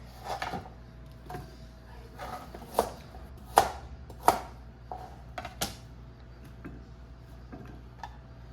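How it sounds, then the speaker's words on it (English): A knife chops on a cutting board in irregular thuds and taps, some sharper knocks among quieter ones, close by with no talking. "Just like roughly chopping it."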